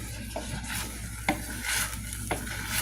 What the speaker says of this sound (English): So you gotta constantly stir it.